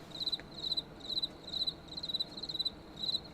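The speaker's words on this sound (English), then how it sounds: "Do I hear crickets?" Crickets chirp in quick regular bursts, a high trilling pulse repeating about twice a second over quiet background noise.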